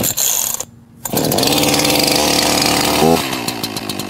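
An Echo CS-4910 chainsaw roars into life after a pull start, a loud close engine buzz at fast idle after a brief cough and a short silent gap, then the pitch shifts as the revs drop.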